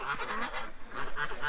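A flock of geese and ducks, many of them female geese, honking and quacking at close range in a dense, overlapping chorus of nasal calls.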